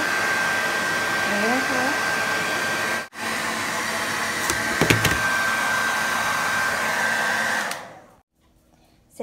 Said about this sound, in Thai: ใช้ไดร์เป่าเข็มนะคะ ค่อยเป่า